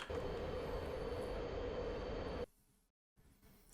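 A MiG-31 interceptor in DCS World flies at high speed with a loud, steady broadband engine and wind roar that cuts off abruptly, followed by a quieter rumble, a brief dropout to silence and then a faint return of noise.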